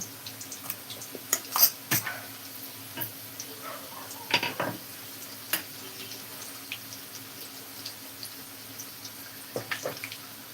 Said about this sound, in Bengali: এটাকেও হালকা হালকা হাতে করে তেল ওপরে ওপরে তুলে তুলে ভেজে নেব